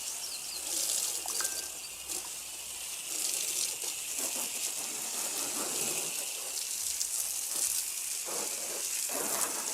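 Water sprays steadily from a hose nozzle gun onto a car during washing, a continuous broadband hiss with slight surges, close and with no talking.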